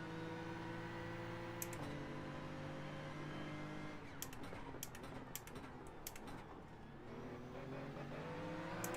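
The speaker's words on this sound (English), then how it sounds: "I just hear him revving his engine like he's pissed" AI-driven GT car in a racing video game on the Nordschleife, its engine droning steadily with harmonic tones that shift pitch as it revs and accelerates, fairly loud and continuous, no talk.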